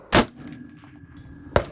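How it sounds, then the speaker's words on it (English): Two sharp, loud firearm gunshots during hunting practice, about 1.4 seconds apart, each cracking out and then fading into a quiet background. "So that was shooting the firearms."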